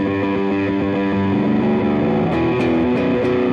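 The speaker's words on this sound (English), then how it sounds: "I'll turn the clean down so you hear only the distortion" A bass guitar through only the distortion channel of an EBS Billy Sheehan Ultimate Signature Drive pedal plays a sequence of buzzy, gritty notes, loud and thin in low end, with a few sharp clicks near the end.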